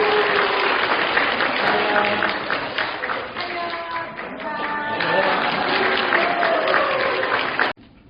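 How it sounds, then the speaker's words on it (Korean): Clapping from a congregation at a Korean church harvest thanksgiving service, steady rhythmic applause running continuously under a child's and adults' voices and singing, ending suddenly. "박수."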